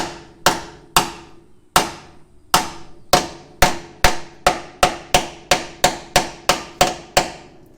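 A hammer strikes metal again and again on a 1951 Pontiac Chieftain's suspension, sharp ringing blows that start spaced apart and settle into a quicker, steady rhythm, close by.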